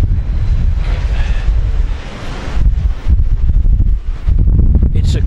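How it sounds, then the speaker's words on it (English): Wind buffets the microphone on a morning at Blackpool seafront near the North Pier, loud rumbling gusts with brief lulls and surf-like noise throughout. "There's a slight wind"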